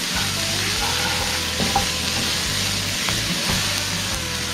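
Veg Manchurian mixture being stirred in a frying pan for a street-style dry Manchurian, with a steady loud sizzle and a low hum running throughout, broken by a few scraping strokes of the spoon against the pan.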